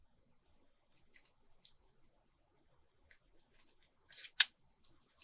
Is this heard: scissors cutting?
yes